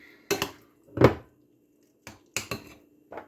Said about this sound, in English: Just going to stir this a little bit